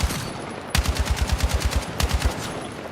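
An AK rifle in 7.62 fires rapid automatic bursts in Battlefield 6, with loud, evenly spaced shots in two quick strings and a brief gap between them.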